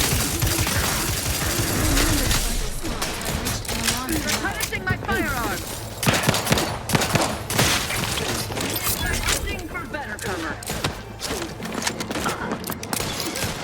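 Rapid bursts of sci-fi gunfire and impacts in The Outer Worlds 2, loud and dense throughout the clip, with a voice talking over the shooting.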